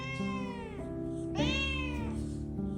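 A house cat gives two long, drawn-out meows close by, loud and tonal with rising and falling pitch, over a steady low hum and no talking.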